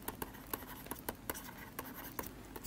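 A pen or pencil writes on paper while a trigonometry problem is worked out, making quick, crisp scratching strokes in an uneven rhythm, close and fairly quiet, with no voice.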